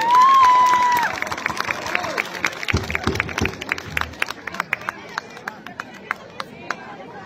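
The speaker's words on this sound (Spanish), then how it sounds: "Un aplauso para Raúl y Arnulfo" Scattered applause and crowd noise at an outdoor patronal festival with a banda, sharp claps rising from a murmuring crowd after a brief tone, fading into sparse, thinning clapping.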